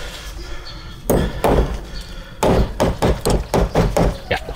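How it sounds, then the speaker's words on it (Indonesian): A real hammer strikes a nail in a door, one loud blow followed after a pause by a rapid series of sharp, close, ringing whacks. "Ini buat nunjukin, ini kita pakai palu beneran."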